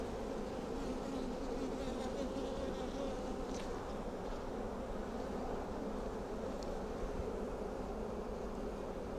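Honeybees hum steadily around an open beehive as queen cells are cut out, a dense, continuous buzz close by with occasional louder passes of single bees.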